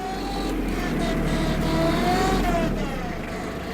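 A Captain 28HP tractor engine runs steadily while the tractor drives in reverse, giving a continuous, fairly loud motor drone with slight pitch shifts and no talking.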